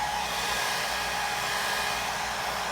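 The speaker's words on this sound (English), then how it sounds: "then dry that with a hair dryer" A hair dryer blows continuously to dry a latex stipple applied to a face for makeup, giving a steady, close, even whooshing hum with no other sounds.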